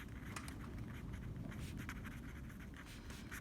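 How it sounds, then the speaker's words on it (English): A pen writing notes on paper, quiet close scratchy strokes in short irregular bursts that run for a few seconds with no speech. "Let's write this down right over here."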